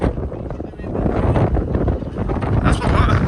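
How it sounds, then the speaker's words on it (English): Strong wind at the Cereals 2022 farm show roars and buffets the microphone steadily, with a voice speaking faintly underneath. "It's got very windy."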